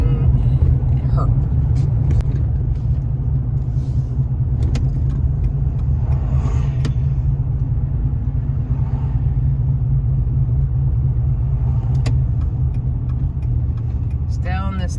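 From inside a car on a road trip: a low, steady engine and road rumble fills the cabin throughout, with occasional small clicks and rattles over it.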